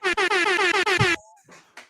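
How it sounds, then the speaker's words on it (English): An air horn blasts in a rapid string of short, loud, buzzy honks on a football broadcast, then stops abruptly, leaving faint trailing noise and a brief whoop. "I thought you was going to give some air horn for that."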